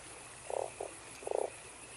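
A toad croaks in the video game Fran Bow, three short bursts of throaty rattling, two close together and one longer after a pause, clear over a faint steady background hum.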